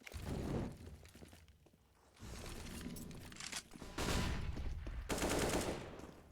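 Rapid Counter-Strike gunfire on the Overpass map as a player pre-fires around a corner: loud automatic bursts in several distinct volleys separated by brief lulls.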